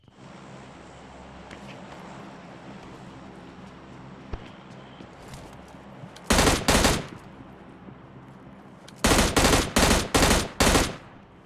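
Gunfire from the mobile shooter PUBG Mobile Lite: two loud automatic bursts, a short one midway and a longer run of rapid shots near the end, over steady game background noise, with no talk.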